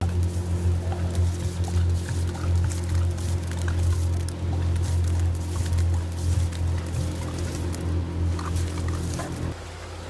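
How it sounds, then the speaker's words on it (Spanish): Wet concrete being poured at a home renovation site near Madrid, a steady heavy sloshing and squelching flow over a droning machine hum that runs continuously and drops off near the end. "Aquí estamos vertiendo el hormigón"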